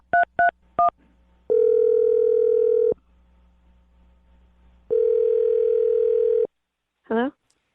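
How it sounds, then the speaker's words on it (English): A dial tone and a quick run of touch-tone dialing beeps from a phone line, with two long steady tones separated by a quiet gap and a brief rising chirp at the end, with no talking. "Okay, here we go. I'm dialing her phone number."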